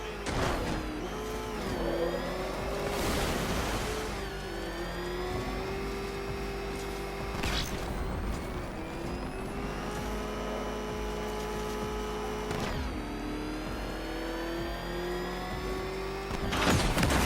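Batmobile engine in Batman: Arkham Knight drones steadily throughout, with revving swells and a few sharp bursts of acceleration or impact, loud and continuous with no talk.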